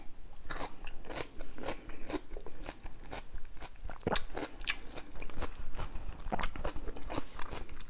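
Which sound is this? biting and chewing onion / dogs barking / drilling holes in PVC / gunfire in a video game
biting and chewing onion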